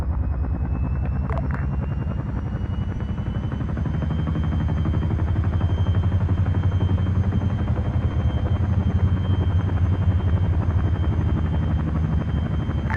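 A military simulation game helicopter roars steadily and loudly for the whole stretch, its rotor chop and engine whine holding near and constant as it flies overhead.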